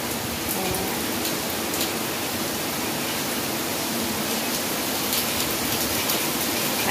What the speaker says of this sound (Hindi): बारिश और ज़्यादा तेज़ होती जा रही होती जा रही है